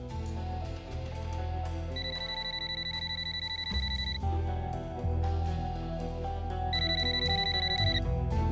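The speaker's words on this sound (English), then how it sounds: "Kim agrees to let them record her next phone call with Charlie" A telephone rings in two repeated electronic bursts for a phone call about to be recorded, clear and close over a sustained tonal background, with no one speaking.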